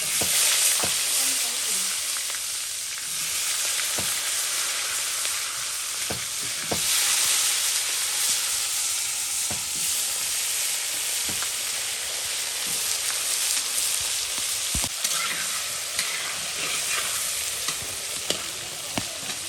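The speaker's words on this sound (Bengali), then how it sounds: "এই যে আমার আলু ভাজা হয়ে গেছে, এখন নামাই দিই" Potatoes seasoned with salt and turmeric frying in oil in a home kitchen, a constant close sizzle broken by sharp clicks and scrapes of stirring, with no one talking.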